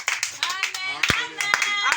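A church congregation claps in praise of God, brisk scattered handclaps from many people ringing out under a lively background of voices and sustained tones.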